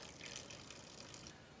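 Water trickles and splashes steadily as it drains off the lipped edge of plastic seed-starting fodder trays, a continuous close, watery hiss with small splashes throughout.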